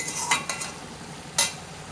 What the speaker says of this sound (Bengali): সুন্দর করে কষিয়ে কষিয়ে রান্না করব যতক্ষণ না বেগুনের জলগুলো শোকাচ্ছে